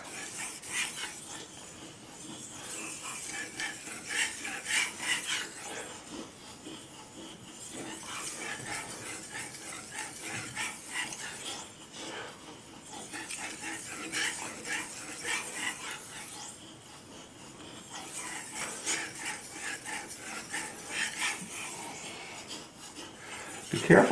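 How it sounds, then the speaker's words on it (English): A knife blade is drawn back and forth across a 4000 grit whetstone in a steady rhythm of soft, gritty rasping strokes, close and fairly quiet, with brief pauses between groups of passes. "changing the scratches from 2000 grit scratches to 4000 grit scratches"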